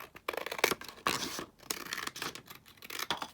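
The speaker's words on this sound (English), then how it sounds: "I'm just going to trim this down here" Scissors trim the edge of a folded fabric pocket, snipping close and quietly in a quick run of several cuts with short scratchy strokes between them.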